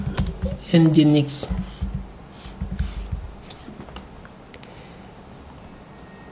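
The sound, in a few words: typing on a computer keyboard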